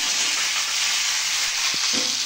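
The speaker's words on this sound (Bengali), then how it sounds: "তেলের সাথে ভালো করে এখন আমি একটুখানি ভাজবো" A loud, continuous hiss of food frying in hot oil, with a brief knock of a utensil near the end.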